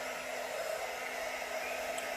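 A hair dryer blows with a steady, even roar and airy hiss, running continuously at the same level throughout, with no talking.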